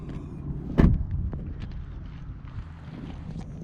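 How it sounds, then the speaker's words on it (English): Hood release on a 2010 Dodge Challenger gives one sharp mechanical thunk close to the microphone early on, followed by quiet rustling and faint handling noises over low ambient hiss. "Let's pop the hood"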